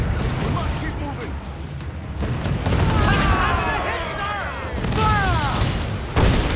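Ship cannons firing in the naval combat of Assassin's Creed IV Black Flag, with heavy booming volleys that roll on under shouted voices and battle noise, a fresh blast near the end.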